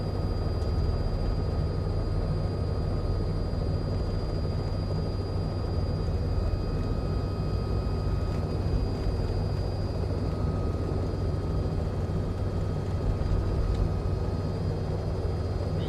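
A CowanSim R66 helicopter in Microsoft Flight Simulator 2024 hovers with a steady, continuous turbine and rotor drone, holding at an even, fairly loud level throughout with no voices.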